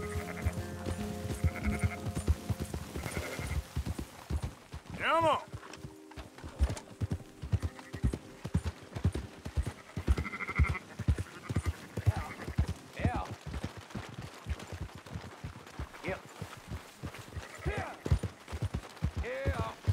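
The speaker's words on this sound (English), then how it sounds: "Fine sheep." Sheep bleating in Red Dead Redemption 2 among horse hooves clip-clopping steadily, several wavering bleats rising over the rhythmic trot, with a voice talking intermittently.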